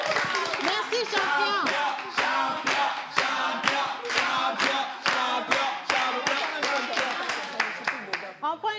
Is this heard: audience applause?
yes